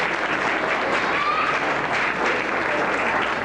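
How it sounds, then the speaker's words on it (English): Audience applause for a talented performer, a steady dense wash of clapping sustained at an even level for a few seconds with no pauses. "Give her a big round of applause."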